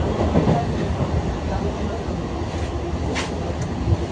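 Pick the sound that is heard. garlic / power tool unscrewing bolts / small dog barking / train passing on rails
train passing on rails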